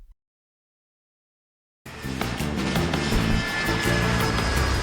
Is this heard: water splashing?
no